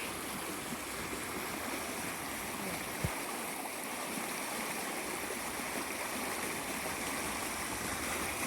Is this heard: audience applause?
no